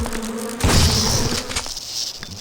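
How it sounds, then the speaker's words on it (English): Wasps in the video game Resident Evil Outbreak File 2 buzz in a loud, droning swarm that swells after a moment and then wavers, with clicks and game effects underneath. "Just get rid of the wasps first."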